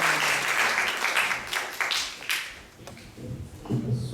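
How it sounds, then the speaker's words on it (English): Applause at an ISKCON temple kirtan night in Atlanta, fairly close and strong at first, then thinning into scattered claps and taps that trail off and briefly pick up again. "Let's give a round of applause for him for coming back to his home"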